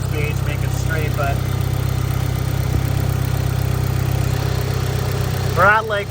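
A car engine idling steadily during street tuning and fuel troubleshooting, a low constant hum with a faint mechanical tick, and a brief voice near the end.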